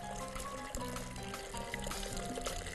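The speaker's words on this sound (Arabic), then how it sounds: "حط لنا شويه ميه" Hot water is poured into a cooking pot to boil cauliflower florets, a continuous splashing pour with a steady rushing texture running the whole moment, close and fairly loud.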